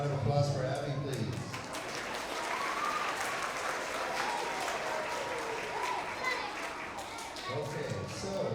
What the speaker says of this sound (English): Another big round of applause for Abby, please.